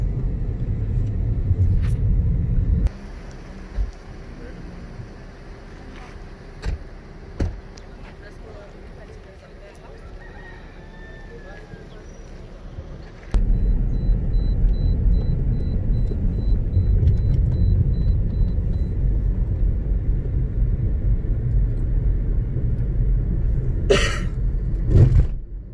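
Low rumble inside a car coasting in neutral through a valley, a steady road drone that drops quieter partway through and then returns louder, with occasional knocks and someone speaking.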